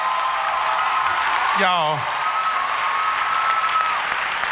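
A church congregation applauds a comedian on a Sunday morning, steady applause filling the whole span with a voice calling out briefly over it.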